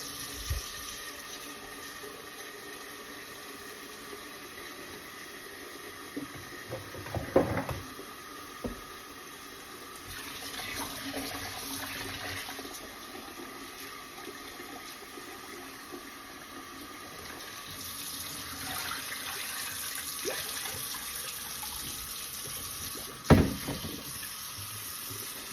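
Tap water running into a sink while fresh potatoes are rinsed, a steady low splashing flow with a few louder clatters and splashes as the potatoes are handled, no talking.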